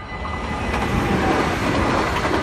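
A train rumbles past close by in a steady, loud roar of wheels on rails, with broadband rushing noise and faint clatter throughout.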